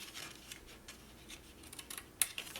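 Scissors bevel-cutting scrapbooking paper, a faint, close run of soft, crisp snips and slicing rasps, with a sharper click near the end.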